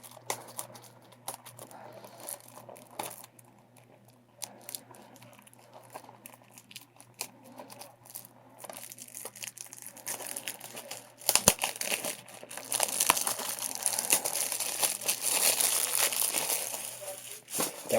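Plastic wrap on a Blu-ray case crinkling and tearing during unboxing, starting as quiet sporadic rustles, then turning into louder, denser crackling and ripping close by for the last several seconds.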